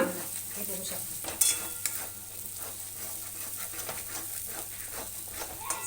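Masala frying in a pan for a rustic village-style fish curry, a soft steady sizzle with occasional stirring scrapes and clicks of a utensil, quiet and close, with no talking.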